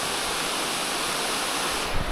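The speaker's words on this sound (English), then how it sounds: "That's a beautiful waterfall with all the ice on it." Waterfall hung with ice on Mount Moosilauke in winter, a steady broad rushing roar of falling water, continuous and fairly loud with no voices.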